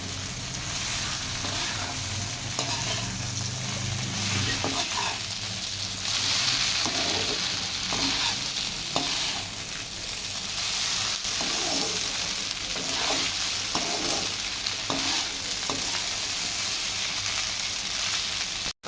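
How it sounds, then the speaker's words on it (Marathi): Homemade pohe stir-frying in a pan gives a continuous loud sizzle with frequent scrapes of a spoon stirring through, close and steady throughout. "आपण याला चांगलं परतून घेणार आहे."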